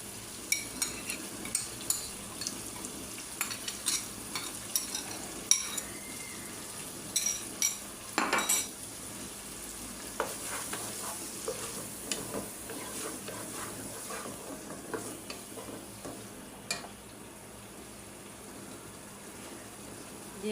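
Chow mein stir-fried in a pan with a homemade spice mix, tossed with already-fried chicken, carrot, long beans and egg: a steady close sizzle broken by repeated scraping, clattering stirs, easing into a softer frying hiss.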